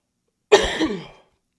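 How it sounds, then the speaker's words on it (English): A single harsh cough, loud and close, bursting out then trailing off raspily within about half a second, alone in silence. "I'm about to cough again."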